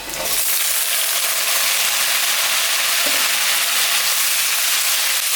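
Chopped vegetables go into a hot pan of fried onion and spices, bursting into a loud, continuous sizzle and hiss that holds steady up close, with a faint clink partway through and no talking.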